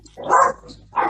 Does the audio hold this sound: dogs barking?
yes